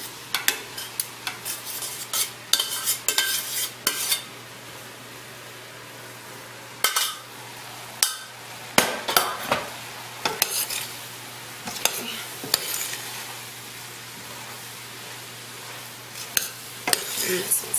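A utensil scrapes and clatters against a pan as rice is stirred into vegetables, in irregular bursts of knocking and scraping over a faint sizzle, with a low hum throughout.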